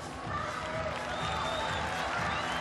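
Home crowd at an indoor shot put final of the World Athletics Indoor Championships in Belgrade, a sustained wash of applause and cheering that swells slightly, with a commentator's voice over it.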